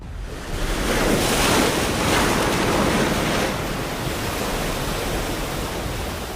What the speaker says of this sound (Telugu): సముద్రం ఎగసి పడుతోంది.